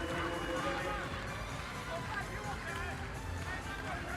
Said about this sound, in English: Tremendous noise from the home crowd inside the arena